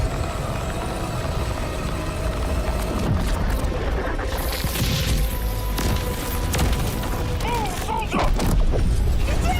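A weapon blowing up in Metroid Prime 4: Beyond, heard as a sustained, loud, rumbling roar with grinding mechanical whines and crackles running through the whole stretch.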